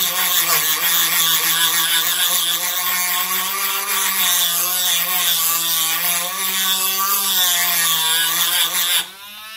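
A pottery trimming tool is pressed against a spinning grinding wheel, giving a loud, continuous, slightly wavering whine with a steady gritty rasp that cuts off abruptly near the end.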